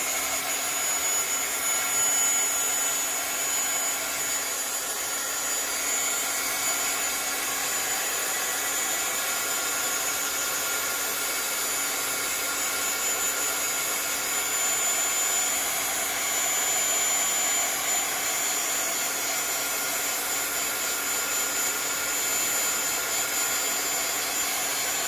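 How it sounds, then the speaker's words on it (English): A heat gun blows steadily and loudly on a laminated bookmark craft project, with a constant close rushing roar and faint whine holding unchanged throughout. "I'm going to turn on my heat gun and I'm going to just dry this up a little bit"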